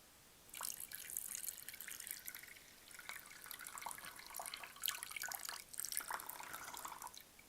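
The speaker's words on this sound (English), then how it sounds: "The sound of pouring came from a cup" Water pours steadily in a thin splashing stream, starting abruptly and continuing with small gurgling variations, close by and fairly quiet.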